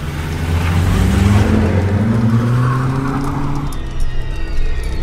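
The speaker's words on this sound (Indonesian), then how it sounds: "aku langsung menancap gas untuk segera sampai rumah" A car accelerates in a radio drama sound effect, its engine note rising and loud up close for several seconds before easing off into a lighter tail.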